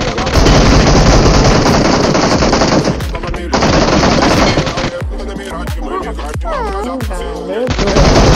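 Rapid automatic gunfire from PUBG Mobile (BGMI), loud sustained bursts of shots with brief pauses, then scattered single shots and game effects, with a voice briefly heard.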